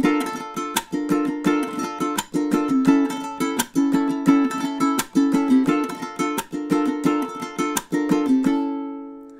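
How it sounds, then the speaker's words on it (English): A ukulele plays a flamenco-inspired rumba strum pattern in quick, percussive rhythmic bursts with sharp accented chops, repeating steadily for about nine seconds before the last chord rings out alone. "It's called a Rumba Pattern."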